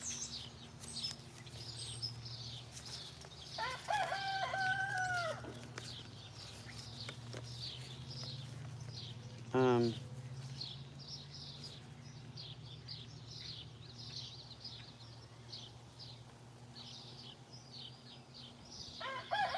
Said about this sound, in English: No, it's not my rooster.